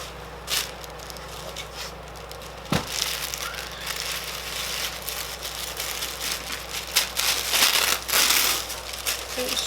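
Paper wrapping around a Jeffree Star eyeshadow palette crinkles and crushes up close, a steady rustling texture with a sharp crackle early on and louder crumpling bursts later.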